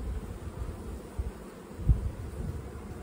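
Honeybees hum inside a hive in a dense, continuous low drone, with a few brief louder swells rising out of the steady buzz.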